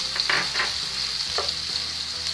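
Chopped onion and finely chopped ginger frying in oil over a medium flame for aloo gobhi, a steady close sizzle with a few brief stirring scrapes and no talking.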